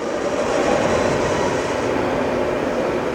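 A Sharp LMV 50-MP CNC knee mill spindle running in high gear at about 3,000 RPM gives a steady, even whir and hum with a broad hiss, constant and alone throughout.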